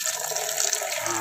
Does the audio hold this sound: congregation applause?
no